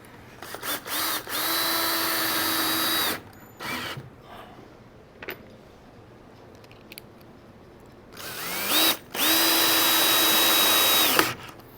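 A power drill drives 2-inch screws through a 1-inch board into a small table, two long whirring bursts with trigger ramps up and down, separated by quieter clicks and handling noise.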